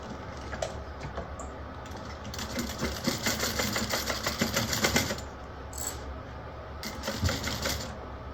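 A sewing machine stitches a bag seam at 3/8 inch, a rapid mechanical chatter that runs in a couple of steady bursts with brief pauses between, close and fairly quiet.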